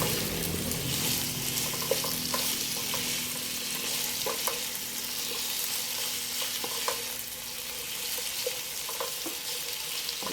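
Garlic, onion and ginger sauté in hot oil in a pan, giving a steady, close sizzle with occasional stirring clicks and scrapes throughout.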